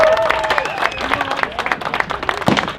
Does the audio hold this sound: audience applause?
yes